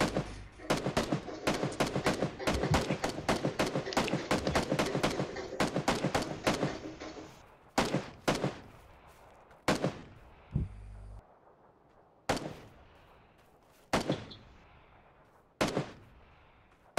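Rapid gunfire in the PUBG Mobile battle royale game, dense automatic bursts for several seconds, then isolated single shots at intervals, loud and close with sharp decays.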